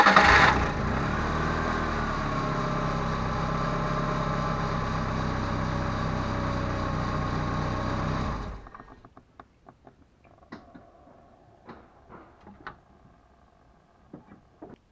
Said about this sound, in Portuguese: Vamos agora ligar o motor